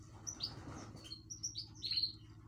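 Small Siberian bird chirping in a series of bright, quick tweets over a steady low hum, several short calls clustered close together and fairly near.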